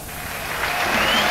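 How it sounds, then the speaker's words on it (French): Stadium crowd applauding during a professional football match between FC Brussels and Zulte Waregem as a player is substituted, a broad rushing wash of clapping that builds slightly over a brief moment. "Alors sous les applaudissements, la sortie de Bangura, il est remplacé par Negoué"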